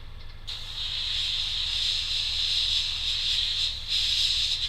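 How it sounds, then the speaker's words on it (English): Aerosol spray paint hissing onto small, intricate parts at a workbench, a steady close bright hiss starting after a brief pause and running continuously, with a short dip near the end before resuming. "I don't want tons of overspray and all that lot."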